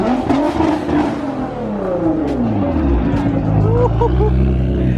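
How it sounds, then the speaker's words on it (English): An Audi R8 rolls into a car meet, its engine note sliding and rising under a crowd's babble, with people talking nearby throughout. "Here comes Alex in the R8."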